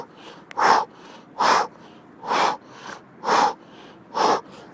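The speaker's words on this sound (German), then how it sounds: "Und immer schön atmen." Heavy breathing during a stretching exercise: five strong, evenly spaced exhalations puffed out close to the microphone, with quiet pauses between them and no talking.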